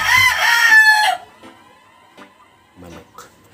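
A rooster crows loudly and close for about a second, then quiet scattered clucks and small sounds follow.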